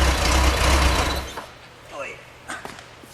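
A 1973 Porsche 911 Carrera RS Touring's 2.7 engine rumbles loud and close for about a second, then cuts off, leaving faint clicks and a couple of short mechanical sounds in the quiet that follows.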